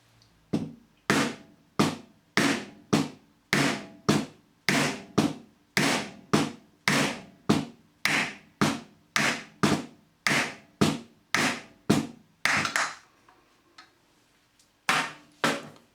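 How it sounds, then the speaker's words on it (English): A nylon hammer taps up on a stuck mixer tap handle, giving about twenty sharp, evenly spaced knocks in a steady rhythm, each close and clear. A short pause follows before two more taps. "I'm going to take the nylon hammer, and I'm simply going to use this as a slide hammer, and I'm just going to tap up the top there gently"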